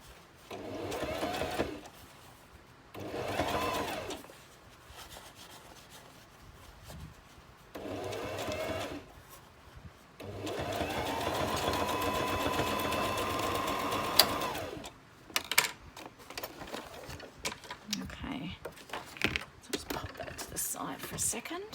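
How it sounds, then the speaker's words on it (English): A sewing machine stitches a fabric ruffle from scrap fabric in bursts of rapid mechanical whirring, several short runs then one long run, close and clear, with quieter gaps and handling noises between. "so I will just keep sewing this ruffle until I run out of fabric."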